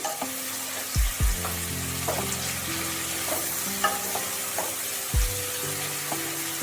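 Rui fish head, bottle gourd and potato for lau ghonto fry in a pan as they are stirred, a steady sizzle with scraping strokes and a few heavier knocks, while a low droning tone runs underneath.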